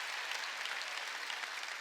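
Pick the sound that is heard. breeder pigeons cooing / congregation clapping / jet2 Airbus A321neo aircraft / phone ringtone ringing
congregation clapping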